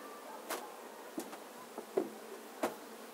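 Honeybees buzz around hive frames during a harvest of honey supers, several bees zipping past the microphone in short loud passes over a quiet background.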